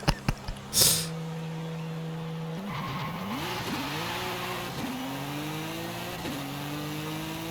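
A Porsche 911 Turbo S in Forza Horizon 5 accelerates hard after a few sharp opening clicks. Its engine note rises and drops through repeated gear shifts, each climbing again, with faint tire noise beneath.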